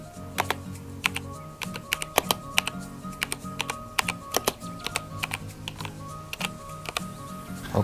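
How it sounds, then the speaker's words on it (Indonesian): Typing on a budget gaming keyboard from an entry-level five-in-one PC kit: rapid, uneven clacky keystrokes in bursts, close and fairly loud, with a few heavier thumps and no talk. "so tu untuk testing dia punya bunyi keyboard lah"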